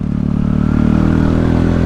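Motorcycle fitted with an aftermarket muffler revving hard in second gear, a loud, rough, close engine roar with rattly clatter.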